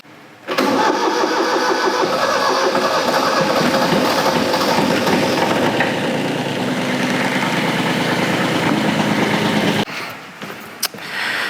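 Kubota F-Series mower engine starts and runs steadily at a loud, even mid-pitched drone for about nine seconds, then drops away into quieter idle with a few knocks.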